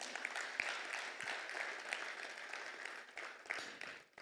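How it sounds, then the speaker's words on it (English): An audience claps for recognition at a project retreat in Lagos, a fairly faint, rippling patter of hands lasting a few seconds and tapering off at the close. "Please clap for FPMU, Mana."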